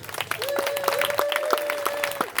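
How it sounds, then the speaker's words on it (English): Applause for band camp staff at a high school marching band's end-of-camp performance for parents, steady clapping from a crowd with a sustained tone running through it. "I give these ladies and gentlemen another round of applause."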